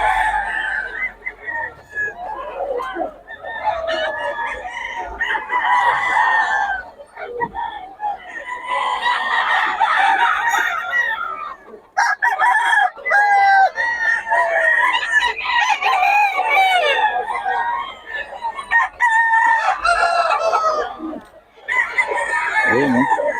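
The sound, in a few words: young rooster (stag) crowing and clucking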